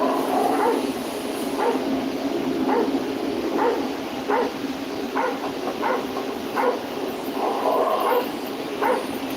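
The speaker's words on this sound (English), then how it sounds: "Dog." A dog barks repeatedly in short, evenly spaced yaps over a steady background hum, moderately close and with no talking.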